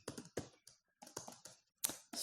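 Quick bursts of keystrokes on a computer keyboard while writing C code, close and clear, coming in short uneven clusters with brief pauses between them.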